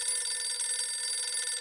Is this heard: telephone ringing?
yes